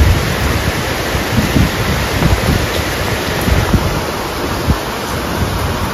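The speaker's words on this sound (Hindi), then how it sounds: "यहाँ देख सकते हैं आप कितनी तिरछी बारिश हो रही है एकदम" Heavy slanting rain pours steadily outside a house in the hills, a loud dense continuous hiss and roar with wind, no voices.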